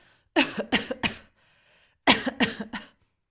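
Two bursts of coughing, each three or four harsh coughs in quick succession, close by, separated by a brief pause.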